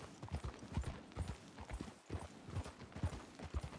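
Horse hooves clip-clop in Red Dead Redemption 2 at a brisk gait, a rapid close rhythmic patter of hoofbeats with a brief pause midway, alone without talk.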